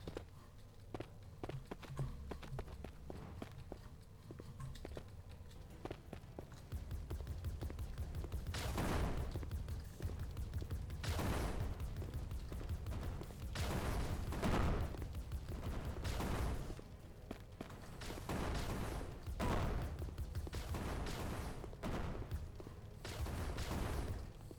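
Explosive turrets in a video game fire in rapid, repeated bursts of booms and thuds, loud and close, coming in dense clusters with short gaps between them.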